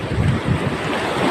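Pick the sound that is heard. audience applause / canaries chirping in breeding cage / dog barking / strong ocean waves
strong ocean waves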